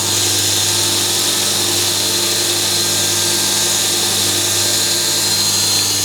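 A Pro Edge sharpening system runs steadily with a polishing mop fitted on an accessory pigtail mandrel, loaded with honing paste for polishing carving tools, giving a loud continuous motor whine and hum with no talk.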